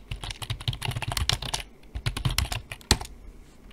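Name being typed on a computer keyboard, a near, quick run of crisp key clicks in two bursts separated by a short pause, with one louder tap near the end.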